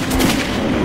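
Gunfire in the Metro 2033 Redux first-person shooter video game, a single loud, sustained burst lasting under a second, with no speech over it.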